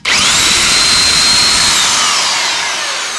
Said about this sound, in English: that drill when it shakes goes right through my body